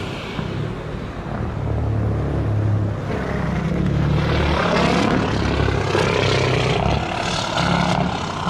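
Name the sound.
airplane landing at Montego Bay airport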